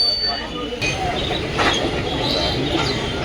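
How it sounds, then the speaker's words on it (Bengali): A train rolls past nearby with a steady rumbling roar and some metallic squeals, amid the bustle of a busy station-side outdoor vegetable market at Shibaichandi. "যে ট্রেন যাচ্ছে"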